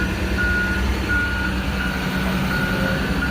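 A Mack truck's reversing alarm beeps steadily in a repeating pattern over a constant low engine rumble, fairly close, with no talking.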